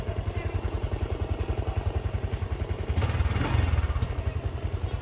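A Honda XRM 125 Fi motorcycle engine runs with a fast, even, close thumping beat, and a louder burst of revving and clatter comes near the middle.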